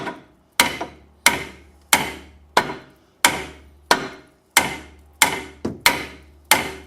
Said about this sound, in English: I'm going to get the hammer. And we will hit right there.